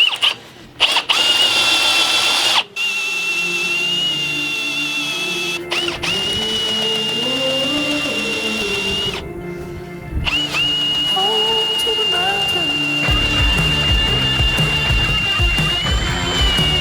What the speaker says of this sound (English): So you'll see the hole saw potentially go all the way down that side beam there